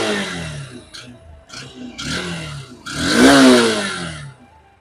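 A Honda CB200X motorcycle engine idling and revving in short blips, then a longer, louder rev that rises and settles back down, close and alone.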